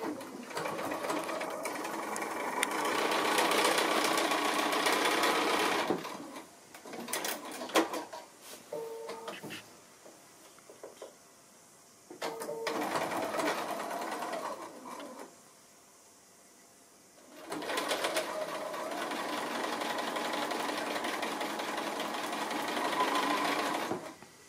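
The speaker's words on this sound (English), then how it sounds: "So I'll go ahead and stitch these 2 corners on and show you how we do the rest of it." A sewing machine stitches quilt block corners in three long, steady runs, loud and close, separated by quieter pauses with handling clicks and fabric shifting.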